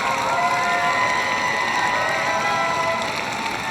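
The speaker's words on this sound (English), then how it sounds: "the crowd's going crazy" Loud crowd cheering and applause fill an indoor arena during Non-Sporting Group judging at a 2025 dog show, a dense, sustained roar of shouts and whistles with no break.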